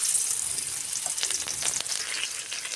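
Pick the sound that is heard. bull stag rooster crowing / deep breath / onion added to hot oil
onion added to hot oil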